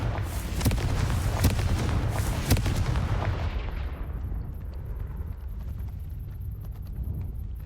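A fiery Confringo spell blast in the Hogwarts Legacy video game, a loud rumbling boom with sharp cracks in the first few seconds that fades into a long, quieter dying roar.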